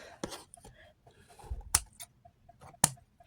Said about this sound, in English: I had to grab some sharper scissors.